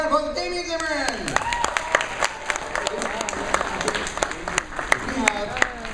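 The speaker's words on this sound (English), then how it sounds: "please give a round of applause to Damien Zimmerman" A crowd at an anime festival opening ceremony in Wichita claps steadily for several seconds, a voice speaking at the start and chatter weaving through the sustained applause.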